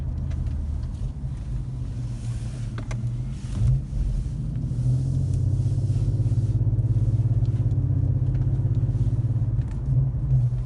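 Infiniti Q50 with a Remark axle-back exhaust and muffler delete, in sport mode, gives a deep, steady exhaust drone that swells into a louder, sustained rev around two thousand rpm before easing off.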